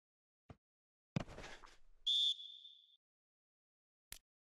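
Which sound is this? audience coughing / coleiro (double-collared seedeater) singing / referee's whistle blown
referee's whistle blown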